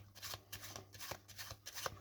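A pack of playing cards being shuffled for a card trick, a quick series of riffling bursts in steady rhythm, close and fairly soft, with no talk.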